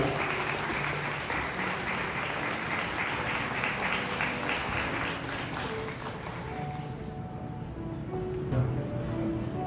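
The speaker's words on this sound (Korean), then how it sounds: "다들 큰 박수 부탁드립니다." A crowd of wedding guests applauds steadily in a banquet hall, dense continuous clapping that stays loud throughout, easing slightly toward the end with a few brief tonal sounds beneath.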